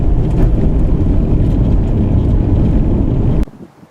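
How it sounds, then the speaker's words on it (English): A 2014 Subaru Outback drives a rough, rutted washboard dirt road, giving a steady, loud, broadband cabin rumble with wind noise. It cuts off abruptly near the end, leaving near silence. "This is a rough dirt road with lots of washboard ruts, but the suspension is doing a pretty good job of absorbing the bumps."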